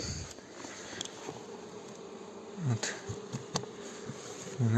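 Honey bees buzz steadily inside a hive at the start of wintering, a continuous close insect drone with a few brief knocks and thumps as the cluster is disturbed.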